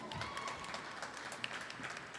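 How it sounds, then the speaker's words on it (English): An audience at a Wayne State University Rainbow Graduation celebration applauds, a dense, even patter of many hands clapping at a moderate distance, steady throughout with no one talking over it. "Can I get a 79 applause?"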